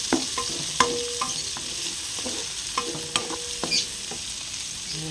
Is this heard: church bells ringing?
no